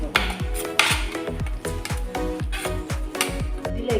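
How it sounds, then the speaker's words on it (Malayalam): Ginger garlic paste and curry leaves being sautéed in a pan, with a spoon scraping and tapping the metal in a quick, regular stirring rhythm, loud and close. "ഇതിലേക്ക് നമ്മൾ ജിഞ്ചർ ഗാർലിക് പേസ്റ്റും കറി ലീവ്സും ഇട്ട് കൊടുക്കുക. ഇട്ട് വഴറ്റുക."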